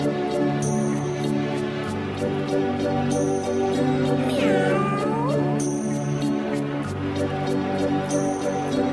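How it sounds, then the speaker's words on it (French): A cat meows once in a rising, wavering call in the middle of a steady musical backdrop, with soft repeating chimes and tones around it. "Mademoiselle la chatte ronronne de joie en plein soleil"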